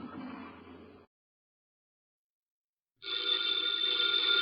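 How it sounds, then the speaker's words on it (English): After a short burst of noise and two seconds of silence, a telephone bell starts ringing steadily and continues to the end. "the ringing of that phone bell brings you mystery, adventure"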